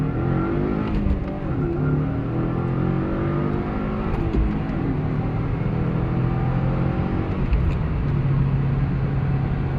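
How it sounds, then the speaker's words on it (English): A van accelerates along the road beside a moving vehicle, its engine rising steadily in a continuous loud drone with shifting tones that swells as it draws level and pushes past. "Was that van trying to race me?"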